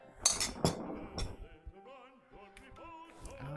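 Ricotta cheese is mixed into cookie batter in a bowl, giving a few sharp utensil clinks against the bowl followed by soft scraping, with faint tonal kitchen sounds in the background.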